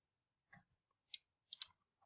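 Computer mouse clicks while drawing shapes in design software: four or five soft, close, isolated clicks spaced irregularly over quiet silence, some in quick pairs.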